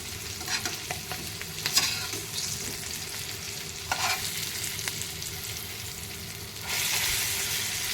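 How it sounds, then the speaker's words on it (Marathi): Stuffed green chillies fry in a pan with a steady, close, hissing sizzle and occasional stirring scrapes, loud and continuous throughout. "एक तीन चार मिनिट झालेली आहे आता आपण या मिरच्या पलटी करणार आहोत"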